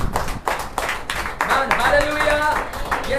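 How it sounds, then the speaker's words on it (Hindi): A congregation at a Thursday healing church service claps loudly in a quick burst of scattered hand claps, with voices and an accompanying tone mixed in over about three seconds. "एक जोरदार ताली हो जाए प्रभु यीशु मसीह को"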